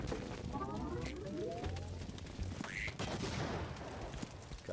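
A weapon firing in the twin-stick roguelike Juicy Realm: a steady run of shots with sweeping synthetic tones, fairly quiet and continuous, with a voice briefly present underneath.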